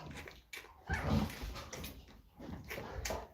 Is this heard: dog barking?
yes